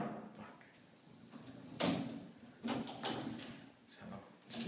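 A heavy door in a restroom and shower area of the Château de Pourtalès swings and slams shut by itself with a few sharp bangs and rattles, close and loud, with a person speaking quietly around it.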